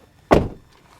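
A vehicle door on a VW T6 campervan opens with a single short, fairly loud thunk-and-swish, close by, with nothing else around it.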